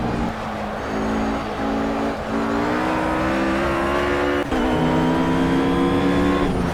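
A RUF GT3 race car engine in a Project CARS racing game at the Catalunya circuit drones loudly and steadily, its pitch climbing through the gears with brief shift dips and a faint tire squeal.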